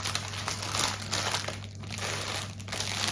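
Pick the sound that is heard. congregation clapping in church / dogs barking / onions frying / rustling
rustling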